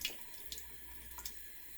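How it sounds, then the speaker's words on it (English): Makeup brushes scrubbed with soap under running water, a faint wet swishing with light splashes and soft bristle rubs over a low steady trickle, close and quiet. "Just really, really scrub this brush."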